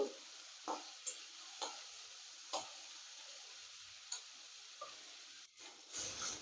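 Filling for Mughlai paratha fries in a pan with a faint, steady sizzle, broken by a series of soft spatula scrapes and taps at irregular intervals, heard close and with no voices.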